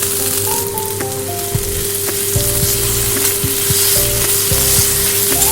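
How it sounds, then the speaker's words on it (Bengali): Ginger paste and chopped onion fry in hot oil in a pan as part of a chhana dalna curry, giving a loud steady sizzle that runs through the whole clip, with occasional stirring clatter. "আদা পেঁয়াজ ভালো করে আমি ভেজে নেব।"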